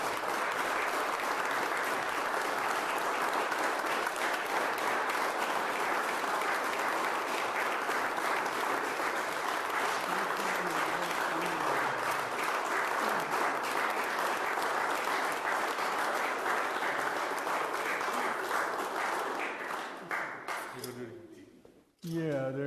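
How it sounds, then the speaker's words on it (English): An audience at a city council regular meeting applauds loudly and steadily for about twenty seconds before the clapping tapers off. Voices carry faintly under the applause. "Give them a big round of applause."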